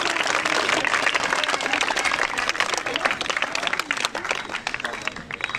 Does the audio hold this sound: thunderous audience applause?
yes